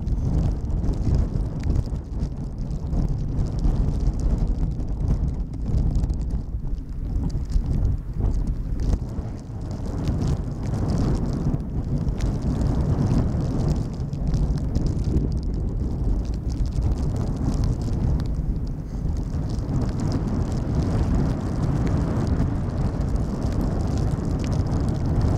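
Strong gusty wind of about 23 knots buffets the microphone at Schiphol Airport in stormy weather, a loud continuous low roar with surging gusts for the whole stretch and no voices.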